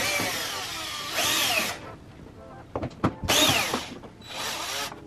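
Several short bursts from a cordless power tool fitted with a T30 Torx bit, backing out the headlight screws on a Ford Focus RS, with brief clicks and handling noises between the bursts.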